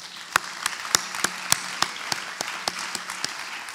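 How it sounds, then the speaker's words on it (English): An audience at a business forum applauds a CEO panel, steady mid-level crowd clapping with distinct sharp claps punctuating it at a brisk rhythm throughout. "Let's give our CEO panel another round of applause"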